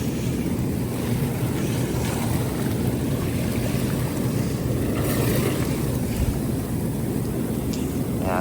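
Bullfrog spa jets running hard, churning the water into foam with a steady, dense rushing and bubbling roar that holds without a break.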